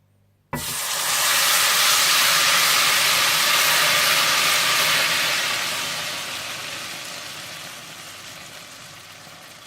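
Milk-soaked semolina hits caramelizing sugar in a hot pan, setting off a sudden loud, close hissing sizzle that holds for several seconds and then slowly fades.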